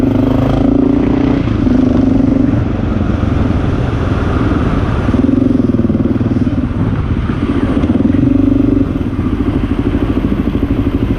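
A Honda XR650L motorcycle with stock exhaust idles steadily with a low, rumbling exhaust note that swells slightly a few times, loud and close throughout.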